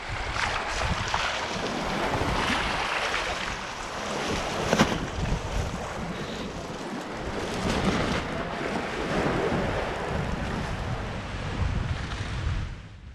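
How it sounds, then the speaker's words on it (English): A sailboat runs downwind under spinnaker, with a steady rush of wind and waves washing along the hull and gusts buffeting the microphone throughout, no voices. "Sailing with the Jennifer up when the wind and the waves are at your stern is my favorite type of sailing."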